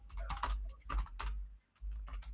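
Someone types on a computer keyboard while setting up an online shop, bursts of close, crisp key clicks with a brief pause midway, over a low steady hum.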